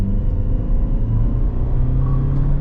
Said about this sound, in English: So as soon as you've kind of floor a little bit, you're already accelerating.